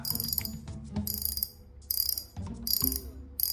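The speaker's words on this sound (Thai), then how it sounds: "ไปฟังเสียงตัว อ่ า อะไรนะ คลิกเสียงกันนะครับ" A Seasir Elixir fishing reel clicks as its handle is turned: rapid close ratcheting bursts in short runs with brief pauses between, loud and mechanical.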